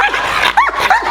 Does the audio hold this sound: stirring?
no